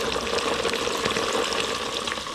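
Fish fillets, two at a time, frying in hot oil in a pan, giving a steady, dense, loud sizzle that holds evenly throughout with no talking.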